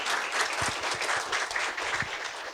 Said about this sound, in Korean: 저희 김성열 교수님 나오실 때 큰 박수로 환영 부탁드리겠습니다.